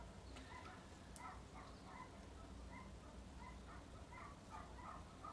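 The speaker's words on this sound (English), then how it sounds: "Listen to those dogs." Several dogs bark in short, repeated yaps and yips at a distance, faint over a steady outdoor background hiss, with no voices.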